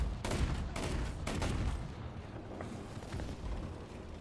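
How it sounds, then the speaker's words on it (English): A 40mm cannon fires in a combat video game: several heavy booming shots in quick succession at the start, then a rumbling tail with a few fainter blasts. "Yeah, this is the same pistol sound effect. I mean, not pistol. It's totally a 40mm cannon."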